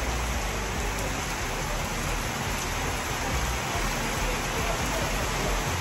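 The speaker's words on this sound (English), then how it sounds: "But it's pouring." Heavy rain pours steadily at an outdoor zoo, a dense, continuous roar of drops hitting surfaces close by, unbroken for the whole stretch with no voices.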